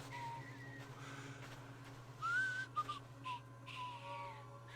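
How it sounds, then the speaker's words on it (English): Someone whistles a few short, wavering notes at moderate distance over a low steady hum, with brief gaps between the phrases. "Oh, that's someone whistling."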